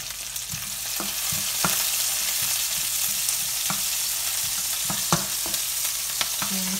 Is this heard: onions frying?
yes